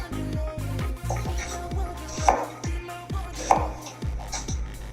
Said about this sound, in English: I'm just going to cut very thin strips of onions from the bottom to the top.